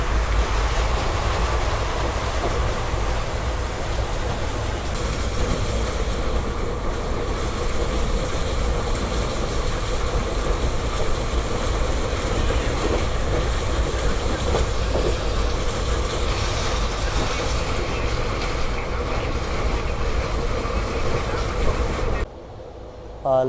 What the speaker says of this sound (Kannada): ಆರಾಮ್ ಟ್ರ್ಯಾಕ್ ಸೌಂಡ್ಸ್ ಕೇಳಿಸ್ಕೊಳ್ದ.